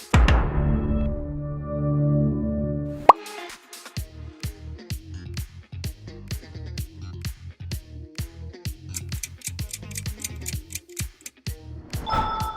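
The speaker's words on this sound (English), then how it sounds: "That iconic sound belongs to Netflix." The Netflix audio logo: a deep swelling boom opens, followed by a rapid run of bright plucked percussive notes pulsing steadily, ending in a brief rising wash.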